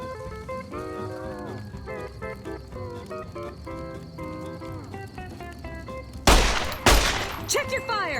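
Gunfire in the video game Fallout New Vegas: a sudden loud volley of shots and a few sharp reports that break in over a sung country tune playing in the background.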